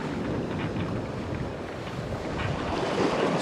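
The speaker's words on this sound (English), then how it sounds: "Just got to keep an eye on the waves here, make sure we don't get cleaned up by a rogue." Ocean surf rolls against a rocky shoreline during fishing off the rocks, giving a continuous loud wash of wave noise mixed with heavy wind buffeting the microphone.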